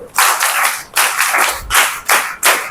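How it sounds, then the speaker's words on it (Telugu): An audience claps together in several bursts of rapid, loud applause, each burst separated by brief pauses, with no talking over it. "ముందు అందరం దేవుడికి ఒకసారి క్లాప్స్ కొడదాం."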